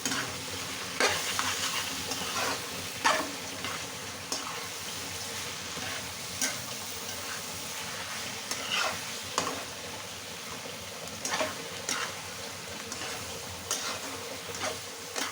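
A thick stew of cabbage and hilsa fish head cooking in a pan, with a constant low sizzle and intermittent scraping strokes of a spoon stirring at an uneven pace. No speech.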